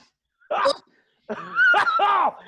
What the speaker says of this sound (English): coughs to the point of almost vomiting.